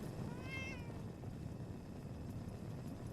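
A cat in the Fallout 4 video game gives a single short meow over a low, steady game-world background hum, with no one talking.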